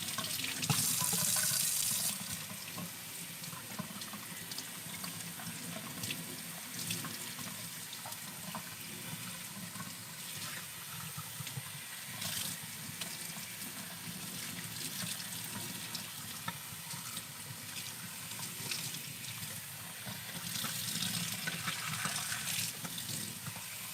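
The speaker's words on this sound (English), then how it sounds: "just get straight in the shower and wet your hair down" Shower water runs in a steady, close rush while hair is soaked before blow drying, with no talking throughout.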